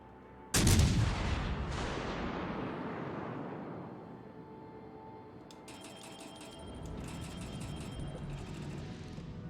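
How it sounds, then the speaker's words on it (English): Heavy naval artillery fires at an enemy warship in a video game, one loud booming blast with a long rumbling decay, followed by lighter mechanical clatter and metallic rattling. "Concentrate fire on the enemy warship."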